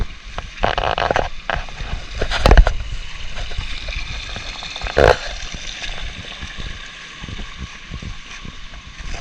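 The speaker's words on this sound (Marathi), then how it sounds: "आवाज बघा पाण्याचा" Water rushes and gurgles steadily through a flooded rice field during heavy monsoon rain in Konkan, with a couple of brief splashy bursts and a faint background hiss throughout.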